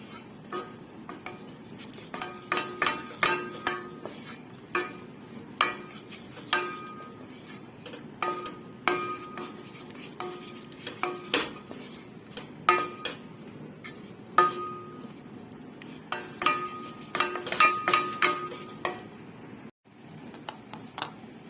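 A spoon scrapes and clinks against a pot while flour toasts in a little liquid for arabaşı soup, with irregular metallic taps and stirring strokes over a faint sizzle, repeated steadily at close range.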